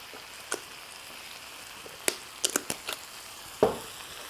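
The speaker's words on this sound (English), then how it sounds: "we're just going to keep that moving so our garlic doesn't burn" Garlic and dried parsley sautéing in a pan for a seafood dish, a faint light sizzle broken by a few scattered sharp clicks and taps of a utensil stirring against the pan, no talking.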